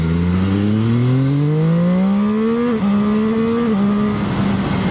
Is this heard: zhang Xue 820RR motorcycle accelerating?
yes